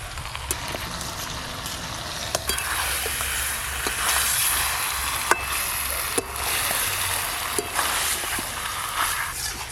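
Washed chicken pieces go into hot oil spiced with asafoetida and sizzle steadily in a pan for a chicken curry, a constant close hiss broken by occasional clinks and scrapes of a utensil.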